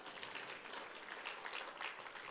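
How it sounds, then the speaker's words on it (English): Audience applause at an Atomy Global Oceania success seminar, a steady wash of many hands clapping at moderate, fairly faint level, continuing evenly without talk. "You need to give a round of applause for this."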